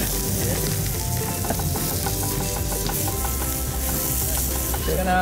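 Onions fry in a pan for a farm-to-table cooking demo, a steady, dense sizzle with crackling pops that holds at an even level throughout.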